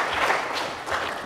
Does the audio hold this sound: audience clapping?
yes